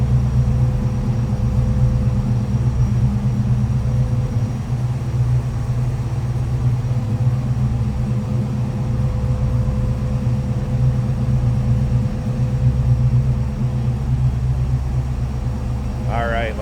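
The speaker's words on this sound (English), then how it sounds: "Nothing crazy over the top on exhaust, but nice rumble to it." A 1964 Chevrolet Nova SS Sport Coupe restomod with FiTech fuel injection idles with a steady, deep exhaust rumble, loud and close, holding constant throughout with a brief higher sound at the end.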